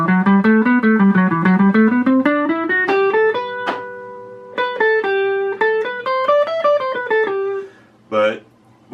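Phrygian scale, a minor mode with a flat second, played as a run of distinct single notes climbing and descending on a distorted electric instrument, followed by a short held chord and a brief burst at the end, with no voices.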